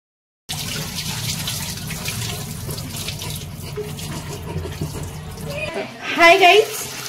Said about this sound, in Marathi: याला आता छान 2-3 पाण्यामध्ये आपण वॉश करूया